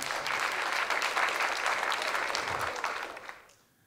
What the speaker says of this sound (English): Clap if you know that story about.